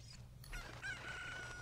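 Chickens in the video game Ocarina of Time, a single rooster-like crow rising in pitch over a quiet low hum, clear and fairly close.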